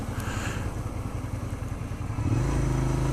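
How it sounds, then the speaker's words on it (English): A Suzuki SV650 motorcycle in first gear, its engine thrumming low and steady as it slows to a stop, then settling into a deeper, even idle, heard up close with no talking. "Okay, so I've shifted back to first. And no one behind me, so I'm just gonna stop."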